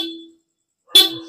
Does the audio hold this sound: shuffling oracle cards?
no